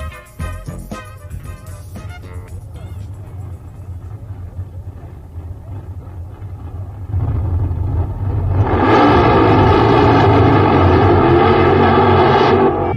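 A 1955 Thunderbird running on nitromethane idles with a rough, lumpy rumble, then revs up into a loud, sustained roar that stays close and fills the second half.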